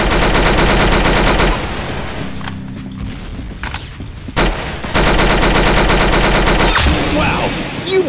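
Rapid automatic gunfire from the Roblox shooter Arsenal, loud dense bursts at the start and again in the second half, broken by a quieter stretch with single sharp shots and mechanical clicks.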